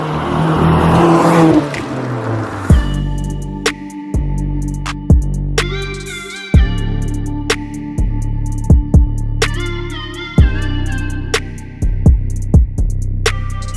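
An APR Stage 2 tuned Skoda Octavia vRS MK1 drives off, its engine loud and close, revving hard through several gears with sharp shift breaks and repeated rises in pitch.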